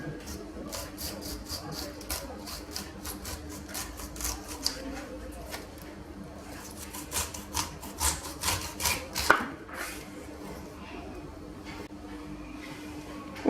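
A serrated knife saws through a pineapple with rhythmic, rasping strokes that come in quick bursts, fairly quiet and close, with soft voices in the background.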